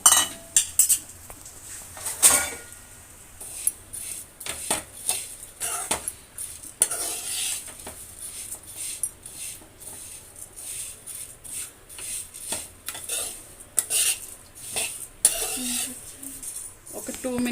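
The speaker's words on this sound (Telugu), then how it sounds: "అదే ప్యాన్లో అటుకులు ఫ్రై చేసుకోవాలి వేసుకొని" Flattened rice (poha) stirred and frying in a pan for a sweet poha payasam, with repeated scraping and clinking of a metal spoon against the pan and a soft sizzle underneath, close and fairly busy throughout.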